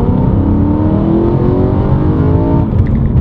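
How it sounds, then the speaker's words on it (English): A decatted BMW M3 accelerating hard to overtake a tractor, a loud close engine note that climbs steadily in pitch over a few seconds before easing off at the end. "I'm just gonna overtake this tractor."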